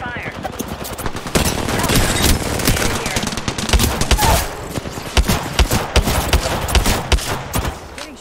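Video game combat with rapid bursts of automatic gunfire and scattered single shots, loud and continuous over several seconds, mixed with game voice callouts.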